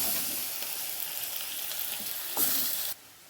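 Onions and tomatoes fry in a pan for cauliflower butter masala, giving a steady close sizzle with light stirring that swells briefly near the end before cutting off abruptly.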